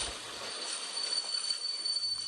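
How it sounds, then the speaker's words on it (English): A train slowing down on rails, with a sustained high metallic wheel squeal and low rumble, fairly close and steady. "the train slows down"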